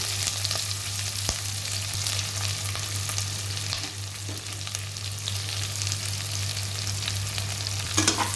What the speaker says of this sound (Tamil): வெங்காயம் வதங்கணும், நல்லாவே வதங்கணும்.